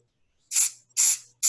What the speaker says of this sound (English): take your can of accelerator that you buy at Rockler, which is designed to make super glue dry right away. And you spray it just lightly like that.